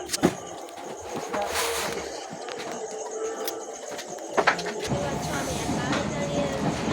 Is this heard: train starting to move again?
yes